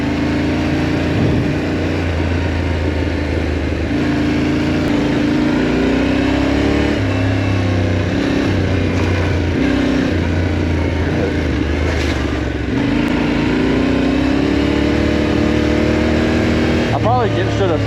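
A Yamaha Tenere adventure motorcycle rides a trail, its engine droning steadily with throttle changes and revs rising and falling, close and continuous throughout.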